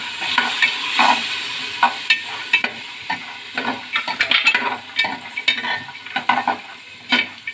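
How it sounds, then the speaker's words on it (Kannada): Green peas frying in a pan for mint pulao, crisp sizzling broken by frequent stirring scrapes and spatula strokes in an uneven rhythm, close and fairly loud, with no talking. "ಅದನ್ನು ತುಂಬ ಹೊತ್ತು ಫ್ರೈ ಆಗಬೇಕಾಗಿಲ್ಲ."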